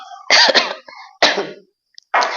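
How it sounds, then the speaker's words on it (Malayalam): Someone coughs after gulping tea too fast. Three harsh, close coughs come in quick bursts with short pauses between them, loud against otherwise quiet surroundings. "പെട്ടെന്ന് ചായ കുടിച്ചപ്പോ ചുമ"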